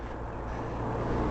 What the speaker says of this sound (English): Cars behind, I can hear cars behind a lot further away.